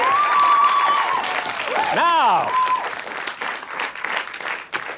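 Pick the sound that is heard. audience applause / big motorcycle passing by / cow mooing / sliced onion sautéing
audience applause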